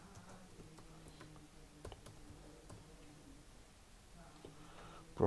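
Typing on a computer keyboard, a run of light, quick key clicks at an irregular pace, faint and close in a quiet room, with no voice over it.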